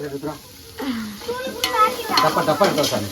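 Tomatoes sizzle and fry in a pan as they are stirred, a close crackling hiss with scraping stirs that grows louder toward the end, while a person talks over the cooking.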